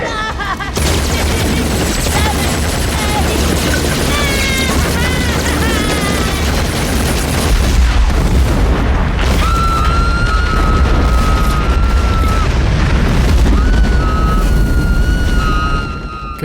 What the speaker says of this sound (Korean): 맹갈로들의 발밑 아래 폭탄을 설치하는 코벤.